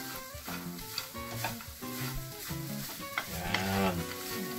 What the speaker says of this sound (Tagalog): ihahalo na natin yung sibuyas